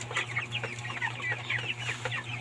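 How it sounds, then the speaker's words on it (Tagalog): A flock of 26-day-old broiler chickens clucks and chirps in a pen, a close, busy overlapping chatter of short calls over a low steady hum, with no talking. "26 days, broiler chicken."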